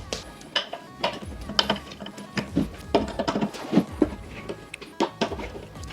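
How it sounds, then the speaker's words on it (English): Screws are driven into the B part of a folding dining table during assembly, a series of irregular ratcheting clicks and mechanical turning sounds at close range, with no speech over them. "you guys wanna do the same thing and screw it on with the B part on the side"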